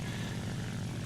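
Steady propeller engine drone of a Mitsubishi J2M2 Raiden fighter in War Thunder realistic battle, a continuous low rumbling roar held at even loudness without any talk.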